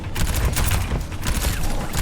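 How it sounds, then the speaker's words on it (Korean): Rapid gunfire from a three-round burst weapon in the game Overwatch crackles loud and dense throughout, overlapping with other game noise. "원래 이런 3점사 총이 맞추기가 힘들어"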